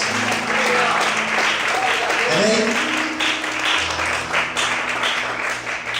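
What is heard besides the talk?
congregation applauding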